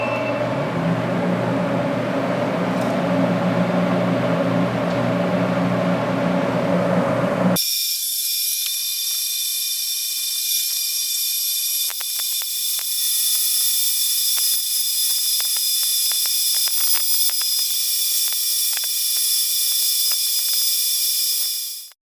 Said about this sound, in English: So let's turn on this welding machine